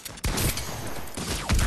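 Rapid bursts of video game gunfire from Fortnite Creative, a dense fusillade of shots that swells loud at the start and again at the end, with little break between them.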